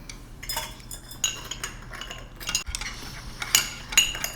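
A knife on a board, with light clinks of utensils and dishes, as fruit is cut into pieces for Ugadi pachadi in a home kitchen; irregular close taps and scrapes, with no talking.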